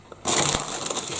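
Tortilla chips are dropped into a nacho dish with a sudden crisp, crunchy rustle that starts abruptly and keeps crackling for about a second, close up and alone.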